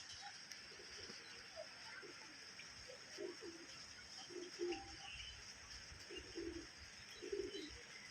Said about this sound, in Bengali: এই বৃষ্টিতে কবুতরগুলো স্নান করছে, ওদেরও বৃষ্টিতে দারুণ মজা হচ্ছে